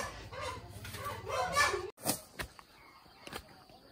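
A chicken clucks and crows amid household noise, with short calls near the start, a sharp knock midway, then scattered faint clucks and bumps.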